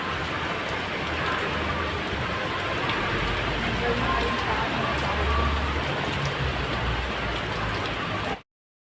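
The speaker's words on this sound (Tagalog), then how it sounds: "lumalakas ang ulan sa bubong ng bahay" Heavy rain drums on the roof of a house in Macau, a dense, steady patter that continues evenly throughout before cutting off abruptly.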